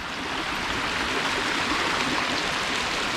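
A small mountain spring stream in the Marble Mountains of Northern California flows steadily in winter, a continuous close rushing and gurgling of water with no other sounds.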